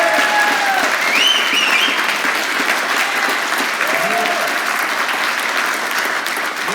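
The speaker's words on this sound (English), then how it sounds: "let's give a round of applause for John Payne." A large audience at Tuscany Hall applauds John Payne in a steady, loud, dense wash of clapping with a few cheers and whistles rising above it, sustained throughout.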